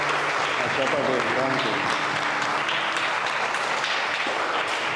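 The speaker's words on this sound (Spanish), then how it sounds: "Nosotros un aplauso por." An Easter Sunday church congregation breaks into loud, sustained applause, a dense wash of many hands clapping together throughout, with a voice talking underneath.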